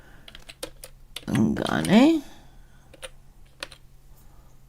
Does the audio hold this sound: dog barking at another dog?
no